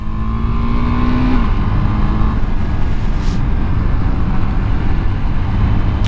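A KTM 390 Adventure (SW) on Kenda Trakmaster DTR tires riding in the rain, its single-cylinder engine droning loud and steady up close, with a rising rev early on and constant road and wind rush.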